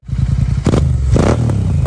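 A Royal Enfield Continental GT 650 motorcycle idles close by with a loud, lumpy twin-cylinder thump, then blips its throttle in two short revs before settling back into the pulsing idle.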